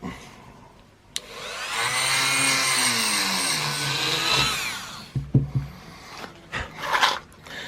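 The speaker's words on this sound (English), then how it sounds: "Now I'm going to just clean out the inside with a Dremel" A Dremel rotary tool cleans out the inside of a Honda CX500 motorcycle carburetor part, a high, close whine whose pitch sweeps up and down for a few seconds, followed by scattered scraping clicks and taps.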